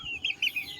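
A pet chicken, a young Boston rooster, gives three short soft clucks close by, quick and evenly spaced, with no talking.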